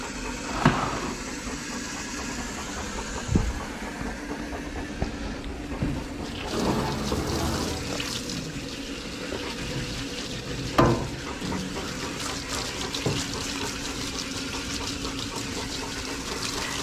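Water sprays steadily from a hose or showerhead to soak the thick coat of a Newfoundland Landseer during grooming, a continuous close hiss with a few louder splashes and knocks scattered through it.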